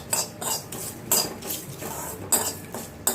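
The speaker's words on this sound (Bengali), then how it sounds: "রোস্টিং হবে, রোস্টের জন্য বসিয়ে দেওয়া হয়েছে।" Cardamom and cumin seeds dry-roasting in a pan, with a spatula or spoon scraping and clinking against the metal in a steady rhythm of short, close strokes.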